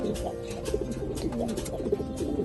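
Racer pigeons of a good bloodline cooing on a farm, several soft repeated coos in a low rhythmic pattern, fairly close, over a quiet background.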